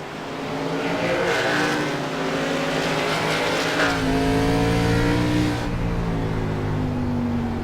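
CRA race cars roar around the track at Langley Speedway, a loud continuous engine drone with rising and falling pitch as cars accelerate through the backstretch.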